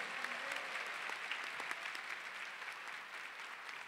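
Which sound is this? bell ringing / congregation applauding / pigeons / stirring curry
congregation applauding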